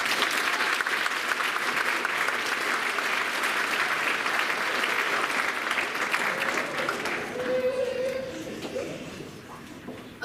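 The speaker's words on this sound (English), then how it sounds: "Let's give all of them a big round of applause." Audience applause at a school band spring concert, steady clapping filling the hall and tapering off toward the end, with a brief voice near the close.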